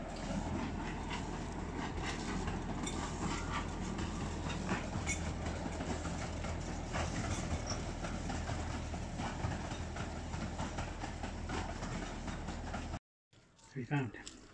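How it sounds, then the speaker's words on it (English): The miniature train at Marwell Zoo rumbles past steadily with a low, continuous rolling drone and faint rattling for over ten seconds before the sound cuts out abruptly. "There goes the train."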